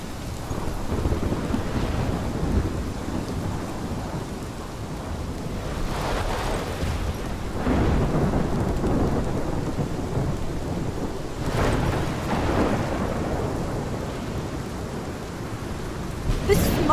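Thunderstorm with rain in the video game Life is Strange: steady rain hiss under repeated deep rolling thunder rumbles that swell and fade, with no talking.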